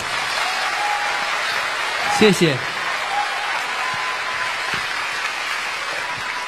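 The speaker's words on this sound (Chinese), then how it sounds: "所以我可以判断这应该是热烈的掌声" Warm applause from a concert crowd, a steady wash of clapping filling the hall while a singer briefly speaks over it.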